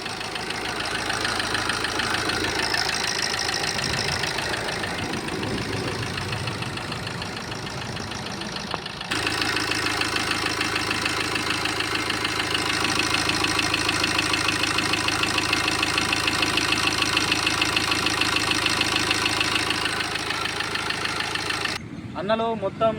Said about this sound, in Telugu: మీకు ఇప్పుడు బండి స్టార్ట్ చేసి మీకు ఇంజన్ సౌండ్ చూపిస్తా.